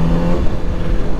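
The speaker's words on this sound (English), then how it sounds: "Stock exhaust is interesting. It sounds good under load, but it's just silent." Kawasaki ZX-4RR motorcycle on its stock exhaust, pulling under load in fourth gear: a steady, close engine drone with wind noise and no voices.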